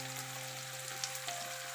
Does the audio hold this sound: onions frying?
yes